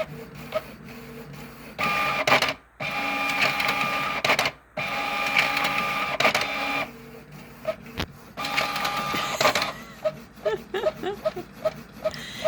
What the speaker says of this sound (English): Printing patterns is funny.